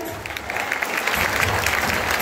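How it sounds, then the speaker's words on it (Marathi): Loud, dense applause from an audience at an award ceremony honouring successful students of a police-recruitment academy, continuous clapping throughout with a faint murmur of voices. "सो पुन्हा एकदा जोरदार टाळ्या व्हायला पाहिजे"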